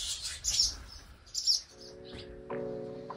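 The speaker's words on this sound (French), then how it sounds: "Il y a beaucoup de nids d'hirondelles." Swallows near their nests give a few quick, high chirps and twitters, fairly close, before a steady engine-like drone with harmonics comes in and continues beneath them.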